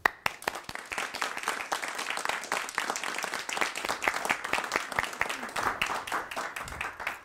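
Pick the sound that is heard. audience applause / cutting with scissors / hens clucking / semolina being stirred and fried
audience applause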